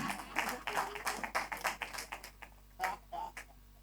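Audience clapping at a public address in Port Harcourt, a burst of rapid, irregular hand claps that thins into a few scattered claps before fading, moderately near and heard alone without talk.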